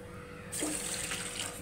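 Water pours from a glass into a cooking pot as it is readied for heating, a sudden steady splashing stream starting about halfway through and continuing up close until the end, with no voices.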